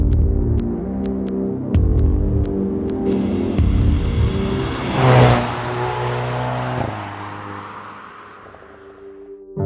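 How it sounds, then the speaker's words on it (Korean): A Hyundai Veloster N with a dual-clutch transmission is driven on a winding lakeside road near Cheongpyeong Lake. Its engine drones loud and close, rising and falling as it revs, with clicking shifts and a swelling surge midway before fading. "제가 지금 타고 있는 이 길은 청평호 부근의 와인딩 로드입니다"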